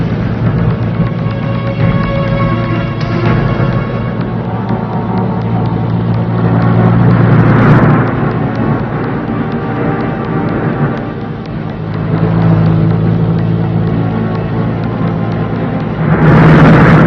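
A car driven hard at speed, its loud engine roaring steadily with broadband rumble and a few surging swells throughout.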